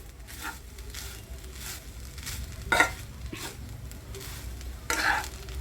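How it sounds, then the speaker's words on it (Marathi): Grated fresh coconut being stirred and dry-roasted in a pan for a sweet coconut and dry-fruit burfi, soft scraping strokes recurring over a faint steady sizzle, with a couple of sharper spoon taps against the pan. "आता हा खोबऱ्याचा किस म्हणजे भाजून घ्यायचा आपल्याला"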